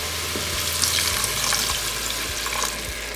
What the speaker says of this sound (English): Okay, now we're gonna deglaze the pan. I've got 4 cups of water. I'm gonna add about 1 cup now.